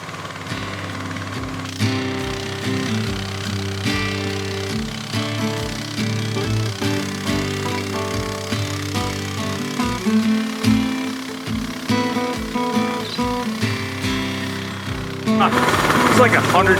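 A Harbor Freight sawmill cuts a red pine log into rough 4x4s outdoors, with a continuous loud engine drone and pulsing blade chatter running throughout, rising harsher near the end.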